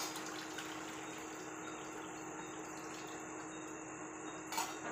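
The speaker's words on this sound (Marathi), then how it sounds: "तांदळातलं पहिले आपण सर्व पाणी काढून घेऊ." Water being drained off rice while cooking chicken biryani, a steady, soft gushing pour that runs evenly throughout with a slight splash near the end.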